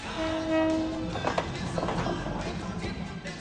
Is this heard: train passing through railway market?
yes